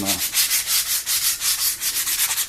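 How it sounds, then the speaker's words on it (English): Steady back-and-forth scratching of sandpaper on wood, repeated strokes in an even rhythm, close and fairly loud with no voices. "now we're going to take a piece of 220 sandpaper and do our final sanding on this"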